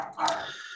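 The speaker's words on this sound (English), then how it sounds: "You may hear the dog barking in the background sometimes at my place" A dog gives a single short, faint bark somewhere in the background of a home, heard alone and brief.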